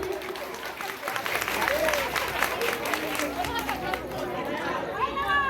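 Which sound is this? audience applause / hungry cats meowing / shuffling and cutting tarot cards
audience applause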